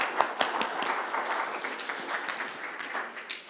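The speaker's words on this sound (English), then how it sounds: "Big applause." Applause from a conference audience at a 2022 UNESCO research conference, a dense, even patter of many hands clapping at moderate distance that holds steady for several seconds without talk.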